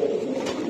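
A pigeon at a pigeon market gives a short, close, soft coo. No one speaks over it.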